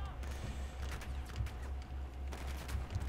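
Rapid bursts of gunfire and explosions crackle through a Battlefield 4 campaign battle in Shanghai, a dense continuous fusillade at moderate distance with someone talking over it.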